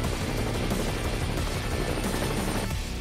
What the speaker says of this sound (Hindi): 2 मिनट बाद जब हेलीकॉप्टर दक्षिण की तरफ उड़ा